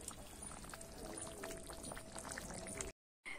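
Thick fish curry pours from a cooking pan into a serving pot in a continuous wet, gurgling stream that runs for about three seconds, close and fairly quiet, then cuts off abruptly.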